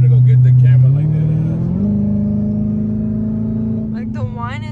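A Dodge Hellcat engine rumbles loudly, then drops to a steady lower drone as a person starts talking over it near the end.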